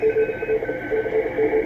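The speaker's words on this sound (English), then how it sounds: "this is Morse code, and it shows you that when people want to operate Morse code, it's still pretty active" Morse code keying on the 20 meter amateur radio band during the CQ WW CW contest: steady on-off tone pulses in irregular dot-dash rhythm, with a fainter second signal and constant background hiss and static.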